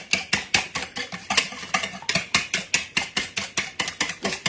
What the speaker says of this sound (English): I'm whipping these eggs with this beater because I'm not using a mixer